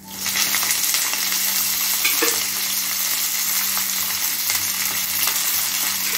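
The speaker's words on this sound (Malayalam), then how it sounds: "1 ടീസ്പൂണ് കടുക് പൊട്ടിക്കാൻ ഇട്ട് കൊടുക്കാം" Mustard seeds splutter and crackle steadily in hot oil in a pan for a grape pickle, a dense continuous sizzle with occasional sharper pops, close and alone.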